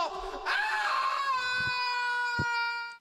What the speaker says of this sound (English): This dinosaur chases Bobbin off the balcony, and he screams.